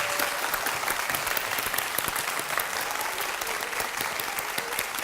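Loud, dense audience applause for the musicians at a children's composition recital in a concert hall, continuous and even from start to finish with no pauses.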